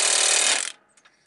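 A hammer strikes a rusted-in shock absorber bolt on a heavy-duty truck, one loud ringing metallic impact that decays over about half a second, followed by faint clinks.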